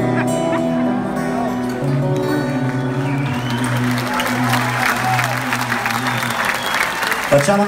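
Applause at an outdoor tribute performance with the bottari of Portico, crowd clapping building over sustained music tones, dense and fairly loud.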